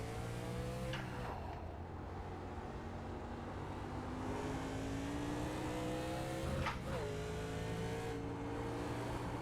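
A 1987 Chevrolet Monte Carlo race car in a NASCAR video game at Watkins Glen, its engine droning steadily with rising and falling revs and two quick gear shifts, with no voices.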